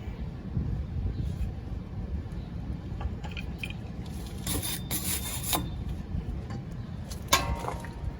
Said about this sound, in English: So it's always good to just brush the whole thing